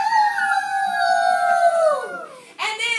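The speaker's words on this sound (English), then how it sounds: "put their noses up in the air, and howled their hearts out" Several dogs howl together in long, drawn-out wailing tones that bend and slide downward, loud and close, breaking off briefly before a fresh rising howl starts near the end.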